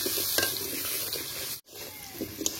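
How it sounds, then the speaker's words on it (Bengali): Potatoes dusted with turmeric and salt fry in hot mustard oil in a wok, a steady close sizzle with stirring scrapes that cuts out for a brief moment midway, then resumes. "আলুগুলো খুব ভালো করে ভেজে নিচ্ছি, এই যে একটু লাল করে উঠিয়ে নেব"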